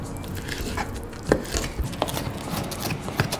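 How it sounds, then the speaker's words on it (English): A knife chops semi-dried tomatoes small on a board, with a few soft, irregular taps and one sharper knock partway through, close and fairly quiet. "I'm going to chop up my semi-dried tomatoes nice and small."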